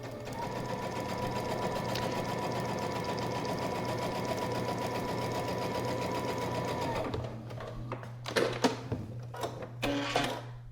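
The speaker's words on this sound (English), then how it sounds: "So we're going to go and sew right here on line 1." A sewing machine stitches a paper-pieced quilt placemat in a fast, steady whir for about seven seconds, then stops, followed by a few soft handling clicks and thumps.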